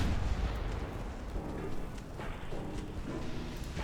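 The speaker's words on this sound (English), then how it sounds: "A 5-inch gun from the Azusa blew up the Northampton's torpedo launcher." A naval 5-inch gun firing in a naval warfare video game, heard as dense, rumbling booms and blasts blending into continuous low battle noise at steady loudness.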